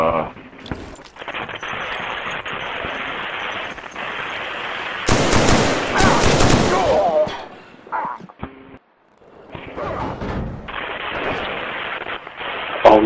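Loud automatic gunfire from a 3 vs 3 WZ clan match video game, with dense rapid bursts that swell into a heavy barrage midway, then continue at a steadier rattle.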